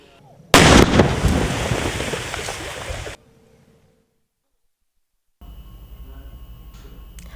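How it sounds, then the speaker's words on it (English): A bomb detonated by police and a bomb disposal squad goes off as one sudden loud blast, followed by a rumbling roar that fades over about two and a half seconds before a cut to silence. "The bomb was exploded by a team of Nambol police and bomb disposal squad this morning near Machin Manauching."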